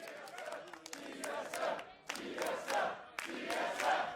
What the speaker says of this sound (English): Fans getting pretty vocal out here in the crowd